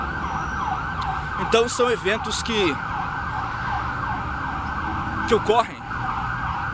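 Emergency vehicle siren wailing steadily through a city street in Sorocaba, a large Brazilian city, sustained and fairly loud with a rising-falling sweep throughout, while someone talks over it in brief bursts.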